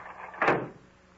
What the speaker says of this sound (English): Close the door, quick.